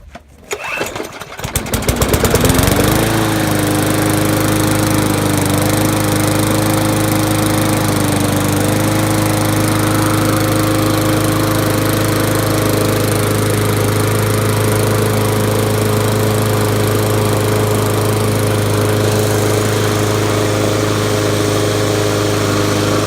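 A push lawn mower with a primer-bulb engine is pull-started after three primes, catching within a couple of seconds and settling into a loud, steady running drone close by with no talk.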